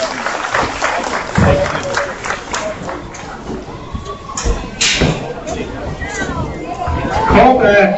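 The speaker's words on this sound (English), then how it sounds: "give all those kids a big round of applause" Scattered audience clapping at a hog market judging show mixes with crowd chatter, talking voices and occasional thuds, the applause uneven and partly buried beneath the surrounding bustle.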